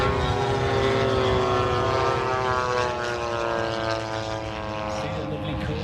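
World War II Corsair fighter plane flying at an airshow, its propeller engine droning loud and steady with a rising-and-falling tone as it passes.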